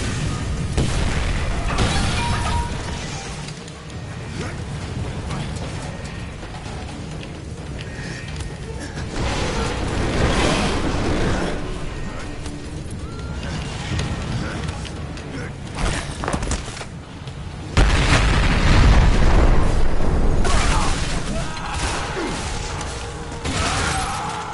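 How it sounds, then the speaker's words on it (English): A video game explosion of gravity core generators: a continuous dense roar of booming detonations and mechanical rumble, with a heavier, louder surge of blasts near the end, no talking. "I predict an imminent detonation within the gravity core generators."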